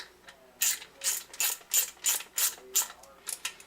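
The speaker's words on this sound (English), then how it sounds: "Now, I just need to loosen the rod" A wrench ratchets in a steady run of about nine sharp clicks while loosening the truss rod of a Gibson J45 acoustic guitar during a neck crack repair, close and clear with no talking.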